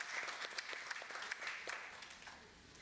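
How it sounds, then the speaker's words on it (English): Audience applause at a banking-technology panel discussion as a panel member is welcomed to the stage, a steady wash of clapping heard faintly and at a distance throughout, with no voices over it. "A big round of applause to Mr."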